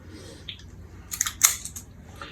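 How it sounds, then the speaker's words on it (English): A number 2 cookie scoop portioning sticky sausage ball mix, heard as a few close, soft metallic scraping and clicking sounds over a faint low hum. "I'm just going to use my number 2 cookie scoop here"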